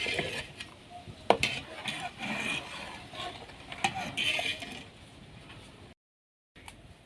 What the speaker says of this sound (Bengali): আর এই যে আমি দুধটা অনবরত নাড়তে থাকতেছি।